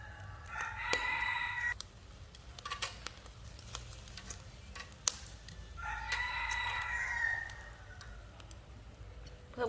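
A rooster crows twice, a long strained call near the start and another midway, over a steady low background hum with occasional clatter.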